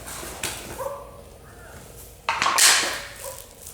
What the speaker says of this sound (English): Excuse the sound, there's a dog on the loose.